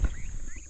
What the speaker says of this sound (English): My turkeys are deciding they're gonna help.